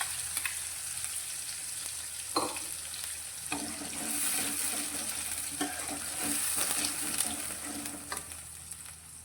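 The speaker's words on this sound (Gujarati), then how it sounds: "હવે આપણે આ પ્યુરીને સારી રીતે સાંતળવાની છે" Tomato-onion puree sautés in a pan with cumin and bay leaf, giving a soft steady sizzle that runs throughout. Occasional stirring scrapes and a brief clatter sound over it, with no talking.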